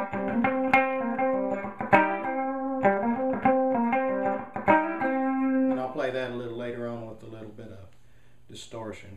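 A Mann SEU-T electric tenor ukulele played through the bridge humbucker with distortion, giving a run of bright, overdriven plucked notes and chords. A sustained lower tone and a few scattered notes follow near the end.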